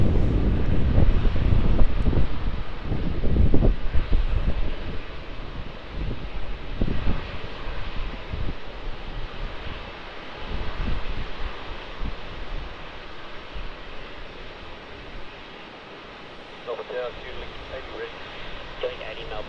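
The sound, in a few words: Fiji Airways Airbus A330 airliner at Melbourne Airport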